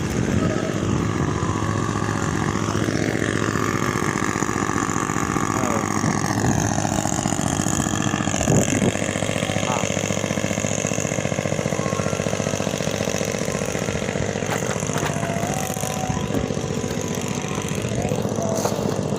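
A boat's engine runs steadily on board a vessel near Banjarmasin, a constant loud mechanical drone that continues throughout under occasional voices and background noise.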